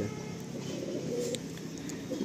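Madrasi Andhra pigeons coo softly in a loft, a low rolling murmur that rises and falls under faint background noise, with no clear talk.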